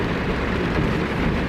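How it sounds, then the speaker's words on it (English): Steady rain falls during a thunderstorm, a dense, even wash of noise with no distinct thunderclap standing out over the short stretch. "It's thunderstorming, bro."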